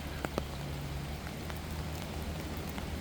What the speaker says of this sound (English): It is raining and it is 67 degrees.